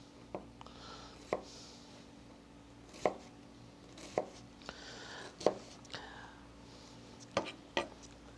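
A sharp kitchen knife chops a quarter onion for coleslaw on a board, giving sparse, crisp knocks at irregular intervals over a low steady room hum, close and fairly quiet.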